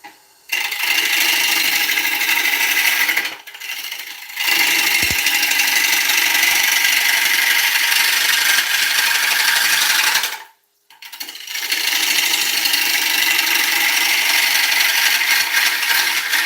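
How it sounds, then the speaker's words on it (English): A 3/8 inch bowl gouge cuts a British ash bowl on a wood lathe, giving a loud, steady, close scraping roar that runs continuously and drops out briefly twice as the tool lifts from the wood. "we'll clean that up anyway with a 3/8 bowl gouge, okay? It's a bit smaller than the 1/2 inch bowl gouge, but it's more for precise cuts"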